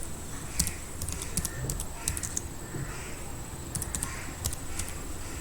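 Computer keyboard typing while entering a search in Google Scholar, a few quick bursts of close, light key clicks separated by short pauses over a low room hum.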